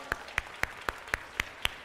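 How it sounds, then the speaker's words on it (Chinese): Seven crisp, evenly spaced hand claps in a steady rhythm at a church prayer meeting, faint and alone with no talk over them. "我们拍手来欢迎今天参加的新朋友，好不好？拍手！"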